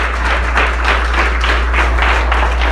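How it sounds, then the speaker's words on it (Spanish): A church congregation claps together at a Sunday morning service, a dense, steady wash of applause over a strong low electrical hum. "Un aplauso para Cristo en esta mañana."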